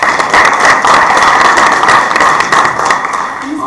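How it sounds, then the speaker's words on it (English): A board meeting audience breaks into a round of applause, dense steady clapping from many hands held at full loudness for a few seconds before easing slightly near the end. "we also would like to give a round of applause thanking him for his service"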